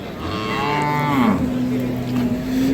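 A dairy cow moos at a rural cattle market, a long loud call that rises then holds steady for over a second amid constant crowd murmur.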